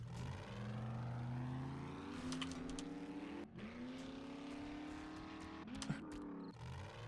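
A truck in the survival video game 7 Days to Die drives with a steady droning engine that rises and dips in pitch as it accelerates and eases off, with a few brief bumps, and no voices.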